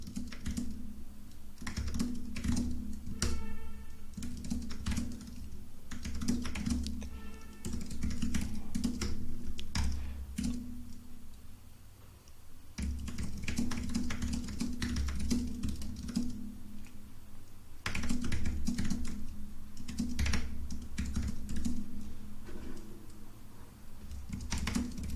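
Someone types a prompt on a computer keyboard, producing steady bursts of quick key clacks close by, with a few brief pauses between runs.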